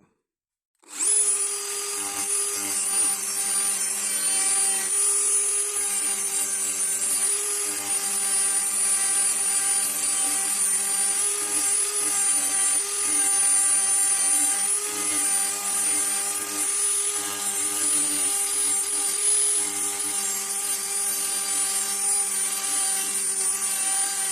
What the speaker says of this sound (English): I'm going to reprofile this with my Dremel as well